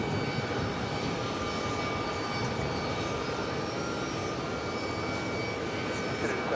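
A jet airliner at JFK airport bound for Milan gives off a steady, distant, fairly quiet roar that holds even across the whole stretch, with faint voices in the background.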